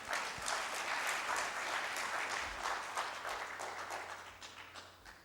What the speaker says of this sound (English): Do you want to give a round of applause to Kamal?